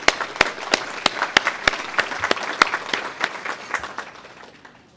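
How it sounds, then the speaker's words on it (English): A small audience at the United Way of Greater Plymouth County 100th Annual Meeting claps steadily for several seconds, sharp individual claps standing out, tapering off toward the end. "So another round of applause."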